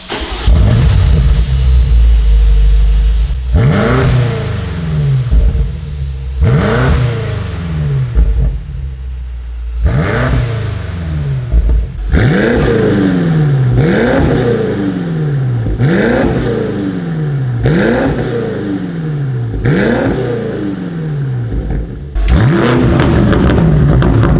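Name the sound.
sports car exhaust revving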